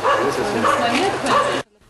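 Several dogs in a house yard bark and yip in a quick run of close, loud calls mixed with talk. The barking then stops abruptly into near silence.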